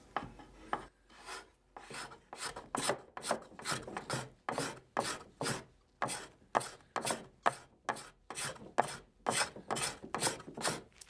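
Repeated rasping strokes of a hand scraper on a wooden chair during restoration, about two per second in a steady back-and-forth rhythm, close and clear with no talking.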